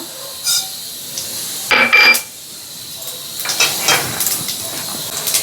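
Mustard seeds tipped into a pan of hot oil: a few sharp clinks of a spoon on metal, then a light, scattered crackle and spluttering sizzle close by.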